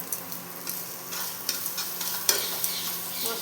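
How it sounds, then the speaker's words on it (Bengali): A spice paste for a pointed gourd (potol) curry fries in a pan, with a soft steady sizzle under repeated scraping and stirring strokes of a spatula, close and moderately quiet. "মশলাটা একটু ভাজা হয়ে যাক"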